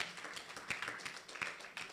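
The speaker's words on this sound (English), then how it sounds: "Yes, I wish you keep clapping" An audience at a World Population Day 2022 celebration claps softly, a light scatter of hand claps at moderate distance that fades in and out over two seconds.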